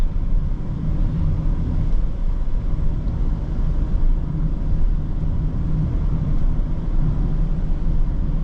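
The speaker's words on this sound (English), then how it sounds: "The only thing I can hear right now is just the AC." Steady broadband whoosh of the air conditioning inside a 2023 BMW X3 30i xDrive on a drive, loud and unchanging, blended with low cabin rumble and no talk.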